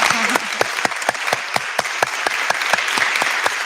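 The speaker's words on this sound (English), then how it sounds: "Can we give her a round of applause?" An audience at a Clinton Presidential Center talk event claps together in a dense, steady burst of applause, close and sustained throughout with no pauses.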